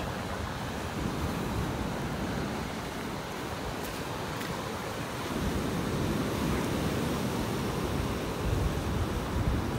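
Surf washes continuously onto a beach in North Naples, Florida, in a steady wash of noise with light wind buffeting. The waves swell a little louder in the second half, with no voices.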